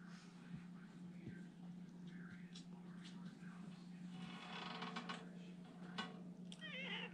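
A faint cat meow near the end over a quiet room background with scattered soft clicks and rustles.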